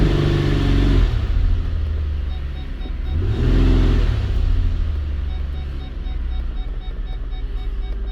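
A 2008 Lincoln MKX engine with a weak cylinder revved twice during a brake torque test, each rev rising and falling loudly over a steady close idle rumble.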